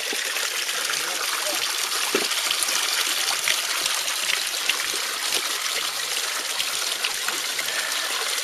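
Cold mountain stream water in Linville Gorge flows and trickles steadily, a constant bright babbling wash with small splashes, moderately close and uninterrupted, no talk.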